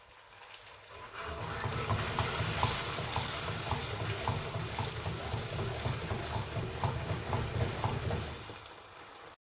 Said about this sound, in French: je vais rajouter le beurre